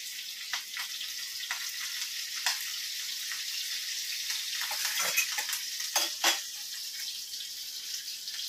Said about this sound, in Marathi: आपण कढईमध्ये तेल टाकलेलं आहे, त्यामध्ये आपण जिरे टाकून घेणार आहोत.